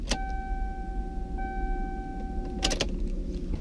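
Inside a 1994 Lexus, the auto tilt and telescoping steering wheel moves into position after the key goes into the ignition, with a steady electric motor whine alongside clicks and jingling key sounds near the start and end.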